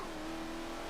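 A racing car engine in Forza Motorsport 7 hums steadily in a brief, even drone at a sustained pitch, close and moderately loud with no talk.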